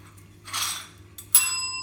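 A puppy knocks a small bell: a soft clinking rustle first, then a single clear ding that rings out and lingers over a quiet indoor background.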